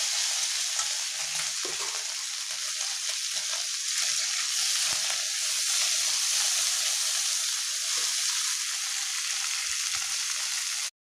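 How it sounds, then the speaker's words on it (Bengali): Small fresh river mourola fish fry in hot oil in a wok, giving a dense, constant hissing sizzle that holds steady and close for the whole stretch, with a few faint clinks underneath. "এবার আমি মাছগুলোকে সুন্দর করে ভেজে নেব"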